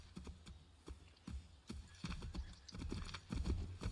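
Horse hooves clip-clopping at a gallop in Assassin's Creed III, a steady rapid beat of thuds close by with an occasional whinny, no talk over it.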